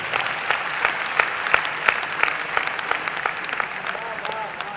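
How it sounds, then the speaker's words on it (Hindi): An audience claps at a poetry gathering (kavi sammelan) in Kolkata. The applause is a dense, continuous patter of many hands with scattered sharper claps, holding steady throughout. "आपकी तालियां।"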